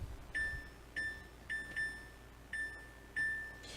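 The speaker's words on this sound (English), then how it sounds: "timer is going off for the 5 minutes we set for the rice" A kitchen timer set while cooking rice for smoked salmon gives five short electronic beeps at an uneven rhythm over a quiet background, with no voices.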